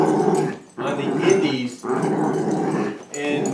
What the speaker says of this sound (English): that's my dog. She's going crazy.